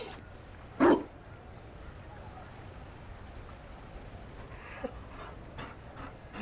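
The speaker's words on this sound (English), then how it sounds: "You found a dog." A Mabari war dog in Dragon Age Inquisition lets out one sharp, loud bark near the start, then pants and shuffles softly under faint ambient noise, with brief rustling bursts later.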